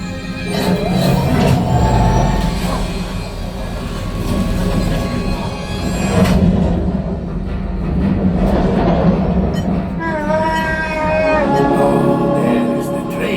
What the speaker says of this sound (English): Oh, there is the train.